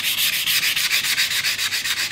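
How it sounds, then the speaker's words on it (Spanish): Sandpaper rubbed back and forth along a Sugimoto fillet knife blade laid on a bamboo cutting board, giving steady, loud rhythmic scratching strokes, about nine passes in quick even succession with no voices. "con la ayuda de una tabla de cortar de bambú, que es muy agradecida para este tipo de trabajos, vamos a darle una lijada"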